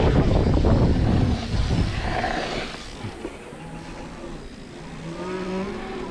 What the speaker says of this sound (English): Does a burnout.